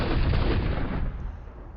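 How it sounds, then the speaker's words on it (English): Mortar fire sound effect from the Panzer Campaigns wargame, a single loud booming blast with a rumbling tail that fades over about two seconds. "Let's see if we can get that mortar sound to come back."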